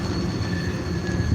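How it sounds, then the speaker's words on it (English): A freight train rolls past close by, loud rumbling wheels on track with a high metallic squeal over the top, steady throughout with no talk. "I see the freight train."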